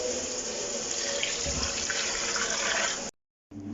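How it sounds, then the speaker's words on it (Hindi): Water pours steadily into a cooking pot of fried mutton paya masala with ghee, a continuous rushing splash for about three seconds, then a sudden stop with brief silence before a faint clink. "तो अब इसमें हम पानी शामिल करेंगे।"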